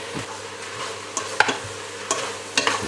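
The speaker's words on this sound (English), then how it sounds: "And we give the whole thing a stir again." A spoon stirs French onion soup with garlic and sugar in a pot, soft scraping strokes and a few sharp clinks against the pot over a gentle background sizzle.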